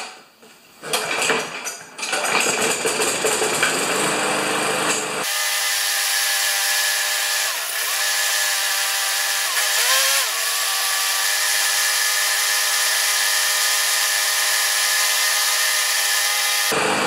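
Murray Craftsman lawn mower engine with a slight miss, first cranking and sputtering, then catching into a loud steady run near 3200 RPM with small wavering dips, close up and alone.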